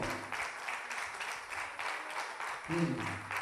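A church congregation applauds in a dense, steady wash of clapping, with a voice briefly rising over it near the end.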